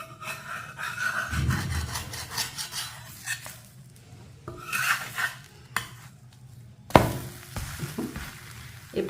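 A metal spatula scraping and flipping a vegetable dosa on a pan, close rubbing and scraping strokes with a sharp clatter near the end, no talk.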